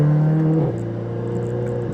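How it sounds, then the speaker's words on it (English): Tuned VW Golf GTI with a Stage 3 tune and dual-clutch gearbox, its engine droning loud and close, the steady tone dropping partway through as a gear changes, with turbo whoosh layered over the running engine. "the turbo noises you get are just insane"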